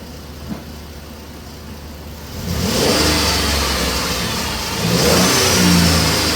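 A car engine revs up twice in strong bursts, idling between and then climbing loudly in pitch, close and steady with no talking.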